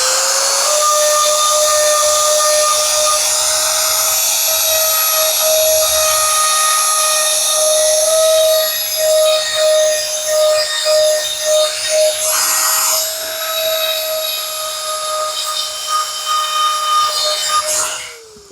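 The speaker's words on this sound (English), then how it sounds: "Now to use the Dremel and the stone to get that fine." A Dremel rotary tool with a grinding stone smooths the edges of a custom leather holster, producing a loud, high, continuous whine that wavers and stutters briefly as the stone presses against the leather.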